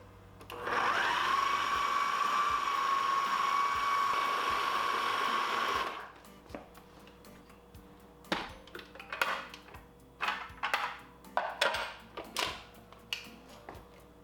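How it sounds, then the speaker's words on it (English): A kitchen blender whirs steadily and loudly for about six seconds as it purées oil-free mayonnaise with Dijon mustard, then cuts off, followed by scattered clinks and knocks. "Then we're just gonna blend this all up. Until smooth."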